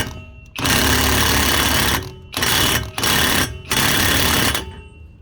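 Impact gun tightening the axle nut on a Ford Edge Sport Limited AWD, three loud rattling hammering bursts of about a second each, separated by short pauses, close up in a garage.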